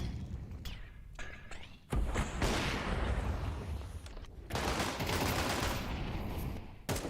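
Counter-Strike round with Desert Eagle pistols firing: scattered sharp shots and heavier thumping volleys over dense, continuous battle noise, fairly loud with brief lulls between.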